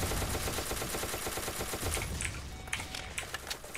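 Dense battle gunfire in the Roblox game Arms of Solitaire, a steady rattle of rapid shots that thins into scattered sharper cracks toward the end, loud and continuous with no talking.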